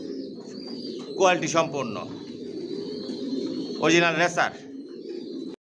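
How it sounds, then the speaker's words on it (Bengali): Adult racing pigeons of a Johnson long-distance line, leg-tagged and vaccinated, coo in low, steady murmurs throughout, with someone talking over them in two bursts. "ভিউয়ার্স দেখতে পাচ্ছেন এখানে সব অ্যাডাল কবুতর"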